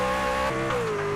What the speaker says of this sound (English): Hear the wheels spin.